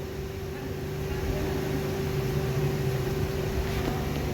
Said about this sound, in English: And this is the spindle on.